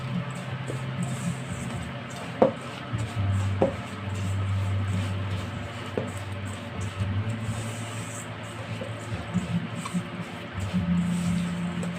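White and brown sugar are stirred together in a bowl for cookie dough, giving a continuous scraping, gritty stir with a few sharp utensil knocks against the bowl.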